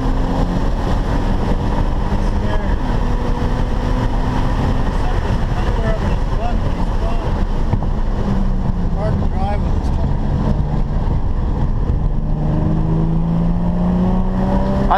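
Ford Mustang engine on a race track, a loud continuous drone with rising and falling pitch as the car accelerates and shifts, close and steady throughout, with no clear talk over it.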